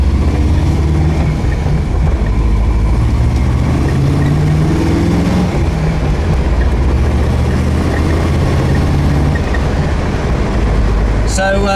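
A V8 car engine on a road test drive, a steady low rumble of cabin and road noise with engine drone rising and falling in pitch, loud and continuous throughout.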